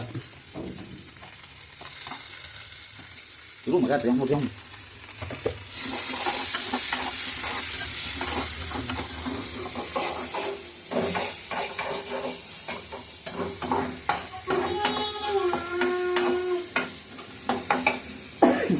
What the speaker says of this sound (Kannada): ಈ ಥರ ಎಲ್ಲ ಫ್ರೈ ಮಾಡ್ಕೊಂಡು ಆಮೇಲೆ ಈರುಳ್ಳಿ ಹಾಕಬೇಕು ಹೆಚ್ಚಿಟ್ಕೊಂಡಿರೋ ಈರುಳ್ಳಿ ಹಾಕಬೇಕು